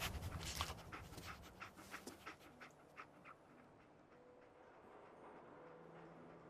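Dogmeat, the dog in Fallout 4, pants rapidly and close by, the quick breaths slowing and fading away after a few seconds.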